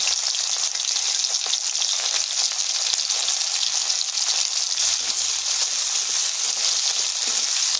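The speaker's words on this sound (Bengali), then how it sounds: "পেঁয়াজটা ভালো করে ভাজা ভাজা করে নেব।" Onion and green chili fry in hot oil in a pan, giving a close, steady sizzle with faint stirring scrapes and no talking.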